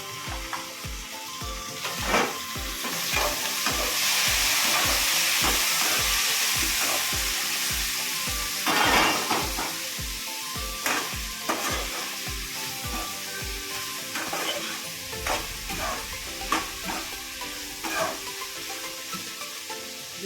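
Pieces of ridge gourd sizzle loudly in a pan for a green chutney, a steady frying hiss broken by regular scraping stir strokes, with a spoon tapping the pan rhythmically early on.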